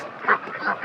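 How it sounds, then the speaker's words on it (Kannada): Ducks quacking on a farm beside an orchard, a few close, fairly loud nasal quacks in quick succession. "ಬಾತು ಕೋಳಿಸ್, ವೀರ್, ಚಿನ್ನು, ಬರ್ತೀವಿರು."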